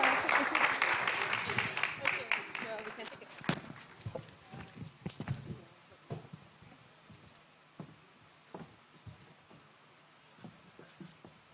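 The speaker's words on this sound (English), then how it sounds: "Please clap for my panelists." Audience applause for the panelists at the end of a fintech challenge semi-finals session: dense clapping at first, then thinning out into scattered, irregular claps that fade toward the end.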